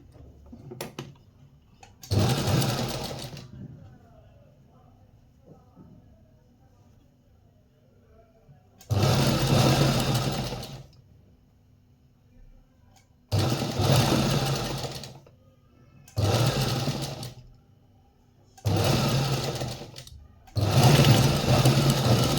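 A sewing machine stitches a blouse cup piece in several loud, close bursts of rapid mechanical whirring, separated by pauses of quiet handling and faint rustling, with the runs growing shorter and more frequent toward the end.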